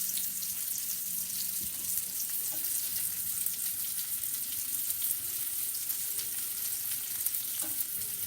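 Butter sizzles and fries steadily in a pan while chicken francaise cooks, a dense continuous crackle with a few faint clinks, close and without talk.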